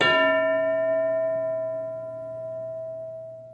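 A single bell strike for an English lesson in a Marathi-medium classroom rings out loud and clear, its bright metallic tone slowly fading over several seconds with no talk.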